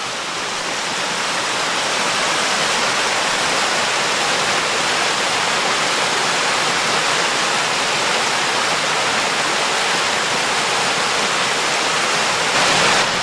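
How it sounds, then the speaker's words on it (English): A waterfall on a wooded trail at Nockamixon State Park, Pennsylvania, roars loudly and steadily, a dense unbroken rush of water that fills the whole stretch with no voices. "And how about just one last look at that waterfall?"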